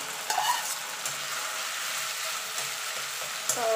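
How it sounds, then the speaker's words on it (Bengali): Ginger and grated tomato fry in a pan while being stirred, a close continuous sizzle broken by a few scraping stirs. "এবার দিয়ে এই তিনটে একসঙ্গে একটুখানি কষিয়ে নেব, আদা আর টমেটোর কাঁচা গন্ধটা না যাওয়া পর্যন্ত"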